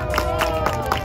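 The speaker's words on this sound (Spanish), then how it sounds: "Un aplauso para Chengmu Yu Cheng." Applause for a five- or six-year-old skater at a national MiniRoller speed skating championship: a brief burst of crowd clapping, with rhythmic claps repeating about every quarter second over a background murmur.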